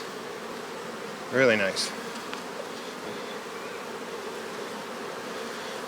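Honey bees buzzing around an open hive during colony expansion, a steady close insect drone throughout, with one brief spoken remark near the start.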